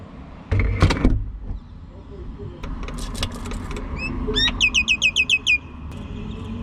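Small birds chirp near a nest in a workshop setting, a short run of bright, evenly spaced tweets arriving late over a steady low background hum, after a loud thump and some clatter.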